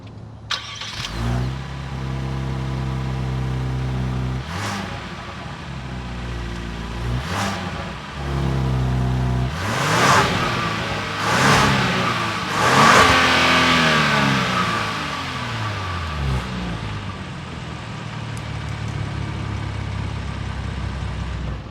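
A 2026 Genesis GV70 Sport Prestige with a 3.5 twin-turbo V6 and real exhaust outlets idles and then revs repeatedly. Sharp rising blips sit over a steady low rumble, heard close and loud with no talking.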